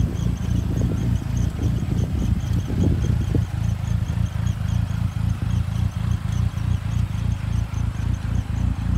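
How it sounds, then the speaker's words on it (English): A Chrysler PT Cruiser engine idles steadily with a low, rumbling hum and light rhythmic clatter, close and continuous throughout. "Not overly excited about the way the engine sounds."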